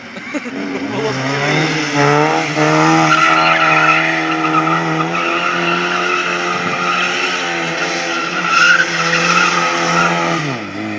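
A car drifting, its tires squealing in a loud, sustained, tonal screech that rises and holds for about ten seconds, with engine noise underneath.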